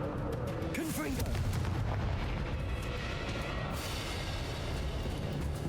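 A Confringo fire spell bursts in Hogwarts Legacy on PC, a loud rumbling blast with a whooshing, roaring tail that fills the whole stretch, dense and low-heavy.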